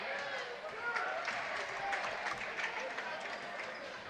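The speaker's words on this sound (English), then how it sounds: "Bruns gets a nice round of applause from the hometown folks." Hometown fans at a Minster at Marion Local high school boys basketball game give a round of applause, faint and distant, a soft continuous patter of clapping and crowd murmur.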